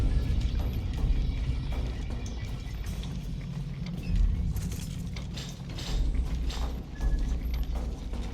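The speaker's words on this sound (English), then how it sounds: "I always liked this elevator ride sequence" Elevator ride mechanism in the video game Batman: Arkham Asylum, a steady loud mechanical rumble with clanking, ratcheting gear sounds and rhythmic clatter running throughout, no voices.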